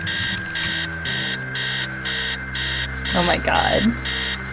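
An alarm clock rings in the Stories Untold video game, sounding in regular repeated bursts with short gaps, loud and steady, while a man exclaims partway through.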